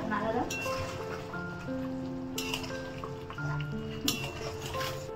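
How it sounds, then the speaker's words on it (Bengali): Potato curry (aloo dum) is stirred in a pot with light metallic clinks and scrapes, while voices talk over the cooking. "এটা একটু নাড়তে হবে আলুর দমটা।"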